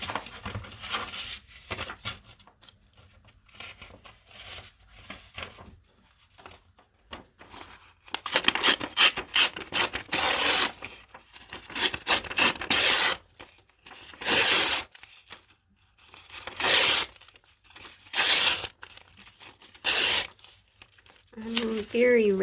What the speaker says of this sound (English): We're going to have to cut some more or tear some more.